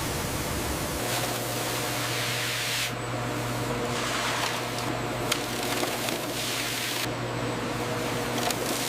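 Industrial spray jets wash banana stems in an automated cleaning line, giving a loud, steady hiss of water under a low machine hum, with brief dips and surges in the spray and no voices.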